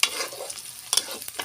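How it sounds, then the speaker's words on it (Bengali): Onions frying in oil for a bottle gourd and lentil dal, a steady close sizzle broken by a few sharp stirring scrapes near the end. "সুন্দর করে পেঁয়াজটা আমি ভেজে ভেজে"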